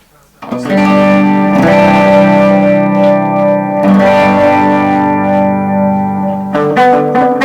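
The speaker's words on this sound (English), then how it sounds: "it has this modulation knob, which gives you sort of a chorusy sound" Sustained electric guitar chords through a Dunlop pedal's chorus modulation, lush and shimmering, ringing out loudly with a brief pause before a final restruck chord.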